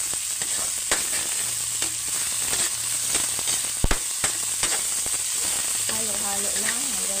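A pan of tomato, ginger, garlic and onion sizzles steadily up close while a spoon scrapes and taps against the pan in irregular strokes, with a brief tonal whine near the end.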